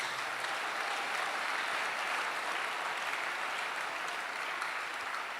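A church congregation claps for Jesus at a sermon: dense, sustained applause from a large crowd, even and unbroken throughout, with no speech over it.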